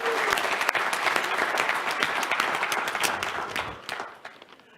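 An audience at a student pitch contest gives a dense, sustained round of applause that stays loud and close before thinning and fading toward the end.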